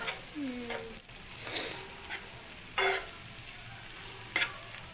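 Tomato and onion cooking in a pan for Koli-style octopus khimma: a soft steady sizzle with a few scrapes and stirring clatters of a spoon against the pan, heard close and without talk.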